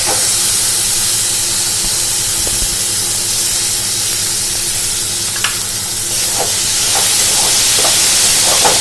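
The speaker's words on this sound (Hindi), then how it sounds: "थोड़ी देर के बाद हम टमाटर के पेस्ट को इसमें डाल देते हैं" Tomato paste hitting a hot pan of spices while cooking an Odia prawn masala, giving a steady loud sizzle and hiss throughout with a few sharper spits and crackles near the end, no talking.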